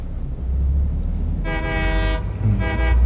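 A train in the video game Satisfactory sounds its horn in two loud, sustained blasts, the second shorter, over a steady low rumble of moving machinery.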